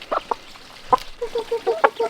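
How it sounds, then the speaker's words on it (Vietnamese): A rooster clucks in short, uneven bursts close by, a few sharp calls followed by a run of softer rhythmic clucks over faint background noise. "Thì con gà trống này đẹp nhỉ anh nhỉ?"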